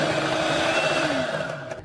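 An electric mixer whisks cream into cheesecake batter, giving a close, steady motorized whir whose pitch drifts slightly before it winds down at the end.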